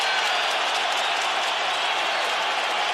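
Dense, steady roar of an arena crowd in Brooklyn cheering and applauding through a late round of a Zabit Magomedsharipov fight, loud and continuous with clapping blended into broad crowd noise.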